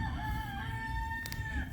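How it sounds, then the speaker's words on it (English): A rooster on a farm crows close by, a single loud drawn-out call with a rising then falling tone over low background rumble. "We have another little rooster too over here."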